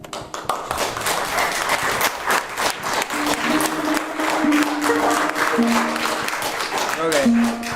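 Audience applause after a song at a concert in Tyringham Union Church, lively scattered clapping with thumps and voices talking over it.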